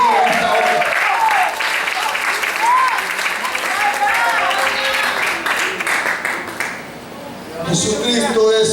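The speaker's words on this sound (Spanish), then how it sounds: "Dale un fuerte aplauso, Señor, en esta hora." A church congregation applauds during a sermon, loud sustained clapping with voices and cheers mixed in, dipping briefly near the end before swelling again.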